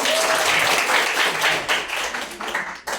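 A classroom of students claps together at the start of an Indonesian language lesson. Close, energetic clapping with sharp bursts carries on steadily, then breaks off abruptly near the end.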